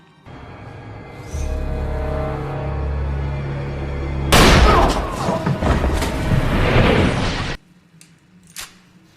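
Gunfire in a violent film scene, heavy booming shots and thuds over a low rumble, loud and close, building into a dense burst before cutting off, with a few faint cracks afterward.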